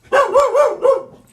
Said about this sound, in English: Yep, that's the dog.